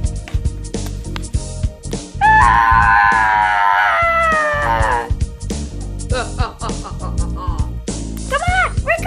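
Mecha Godzilla lets out a loud, drawn-out harmonic wailing scream lasting a few seconds, with shorter cries near the end, amid thumping impacts and excited voices.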